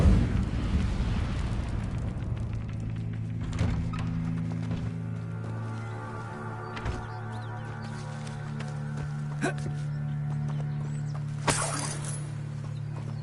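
Incendio fire spell cast in Hogwarts Legacy, a loud whooshing burst that settles into a sustained low roar with humming tones and scattered crackles, plus a bright flaring hiss near the end.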